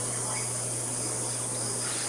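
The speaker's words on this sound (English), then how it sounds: "The cicadas are like everywhere." Cicadas outdoors make a dense, continuous high buzzing hiss that stays steady and loud throughout, with a low constant hum underneath.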